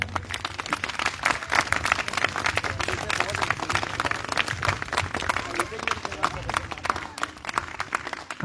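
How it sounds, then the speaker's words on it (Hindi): Loud, sustained crowd applause at a prize distribution ceremony for Avinash sir, dense steady clapping from many people throughout, with no voices. "अविनाश सर के लिए जोरदार तालियां।"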